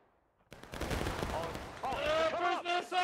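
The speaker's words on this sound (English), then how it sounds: "that volley unfortunately did not do as much damage as I think they needed it to do" A ragged musket volley rolls out in the Civil War-era game War of Rights amid a large battle, a cluster of cracks followed by sustained crackling fire, with voices and tonal sounds rising over the din.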